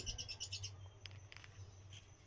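Pet cockatiels and lovebirds chirp in a quick burst of high, repeated tweets, followed by a few scattered single calls, all soft and fairly distant against a low background hum.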